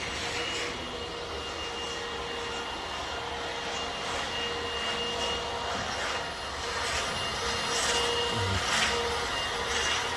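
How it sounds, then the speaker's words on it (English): A vacuum cleaner runs indoors with a steady, continuous broadband drone and faint whine, close and unchanging for the full length, with no talking. "Vacuuming."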